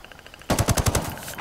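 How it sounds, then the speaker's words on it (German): A rapid automatic burst of gunfire aimed at the Predator in Ghost Recon Wildlands, with about eight sharp, loud shots in quick succession after a brief quiet lead-in. "Ich schieß drauf"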